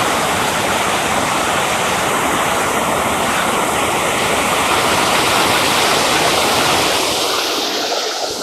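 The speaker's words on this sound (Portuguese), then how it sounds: "Dá pra atravessar por aqui, mas a água é muito forte" A strong, swollen river current rushes loudly at a crossing point, a dense, continuous roar of churning water close to the microphone, with a brief dip near the end and no voices.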